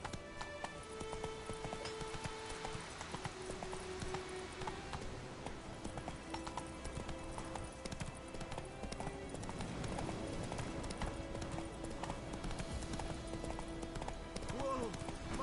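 Horse hooves clip-clop in The Witcher 3 video game, a steady trotting rhythm throughout with game ambience, rain-like patter and a brief voice calling the horse.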